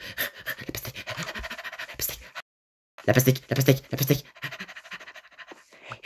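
A fox character pants in a video game, rapid rhythmic breathy bursts in short runs with a pause, close and fairly loud, while a person talks over the game audio.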